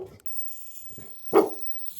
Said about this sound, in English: It's like dogs are just saying good morning to Lucky.